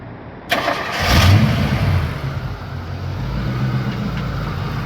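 A supercharged 1986 Ford Mustang GT, a 306 Foxbody project car, cranks and fires up with a loud catch, then settles into a steady, rumbling idle close by.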